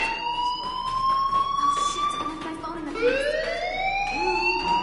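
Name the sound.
fire alarm ringing in video game Life is Strange Remastered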